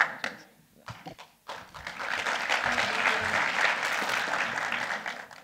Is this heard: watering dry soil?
no